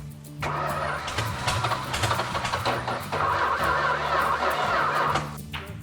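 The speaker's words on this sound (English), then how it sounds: "Let me crank it over and suck some of that down. Hey, she runs." An old 440 V8 that sat for 40 years cranks and catches, running roughly and loudly for several seconds after a brief starter whir, close by with no talk.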